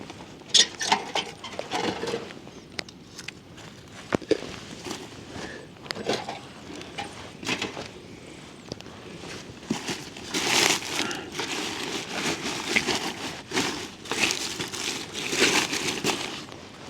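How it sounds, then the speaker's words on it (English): Irregular pattering of moderate summer rain on leaves and surfaces in the mountains of Kishtwar, scattered, with occasional louder drips close by and a soft background wash. "Raining now, not heavily, but yeah, not lightly as well."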